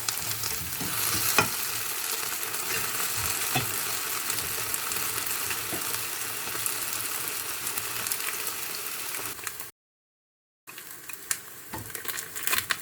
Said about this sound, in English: Lightly sear the aubergine on the outside until tender.